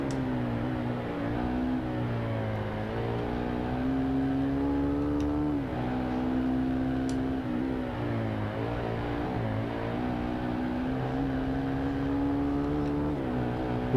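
Yamaha R1 superbike engine in RIDE 2 screaming near redline, a loud sustained whine that climbs and dips in pitch between gear changes, continuous for the whole stretch with no speech.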